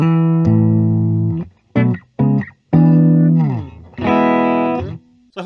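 A 1982 Gibson Les Paul Black Beauty electric guitar on the neck pickup in the middle position with a clean tone, playing loud ringing chords and short stabs with sustained notes decaying between strums, no talking.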